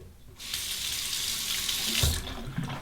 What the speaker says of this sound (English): I'll warm it up under the hot water.